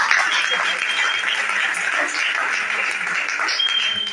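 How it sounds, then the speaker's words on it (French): A church congregation at a Sunday service in Abidjan applauds and cheers for Pastor Paco, sustained dense clapping with a voice speaking over it. "Je veux qu'on acclame pour la vie de Pasteur Paco."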